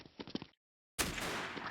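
Gunfire in the Special Forces Group 2 video game: after a short silence, a loud blast of shooting bursts out close by and keeps going. Brief sounds of play come before it.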